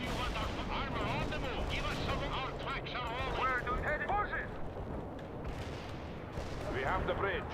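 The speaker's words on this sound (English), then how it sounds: "I guess I'm supposed to drop some artillery on that." Artillery strike in the war game World in Conflict, a dense rumble of shell impacts and gunfire rolling on steadily under a busy battlefield mix, with someone talking over it.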